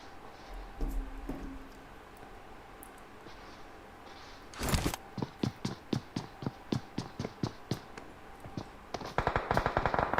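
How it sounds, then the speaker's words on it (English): Gunfire in a competitive shooter match, with scattered single shots followed by a run of evenly spaced reports and a faster burst at the end, sounding somewhat distant and muffled. "Shots going off in the distance."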